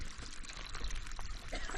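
Orange water from old mines runs out of the ground along the Appalachian Trail, making a steady, close rush of pouring water.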